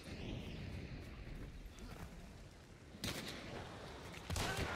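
Gunfire in a squad battle-royale style shooter game, a steady barrage of rapid shots with sharper bursts near the end, loud and close with no talking over it.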